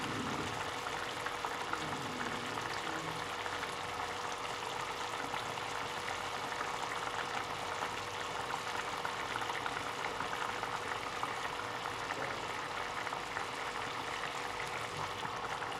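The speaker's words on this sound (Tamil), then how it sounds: "இது மாதிரி குழம்பு நல்லா கொதிக்கும் போது நம்ம உருண்டை ஆட் பண்ண ஆரம்பிக்கலாம்" Veg kola urundai kulambu curry boiling in a pot, a steady close bubbling and simmering hiss that holds constant throughout without talking.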